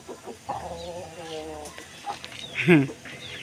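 Large farmyard chickens with chicks among them give a few short clucking calls, one louder call standing out near the end, while people talk close by.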